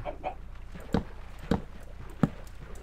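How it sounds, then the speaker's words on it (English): A Minecraft chicken clucks in short, sharp bursts, three or four evenly spaced clucks over faint background noise, with no talking. "Why is there a chicken over here?"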